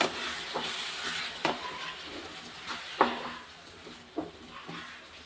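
Lime pickle cooks in hot oil in a pan while a spoon stirs it. A steady low sizzle runs under irregular scrapes and knocks of the spoon against the pan, close and fairly quiet.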